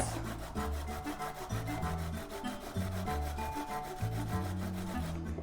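Carrots rasp against a hand grater in quick regular strokes, a close rhythmic scraping that repeats steadily throughout with no speech.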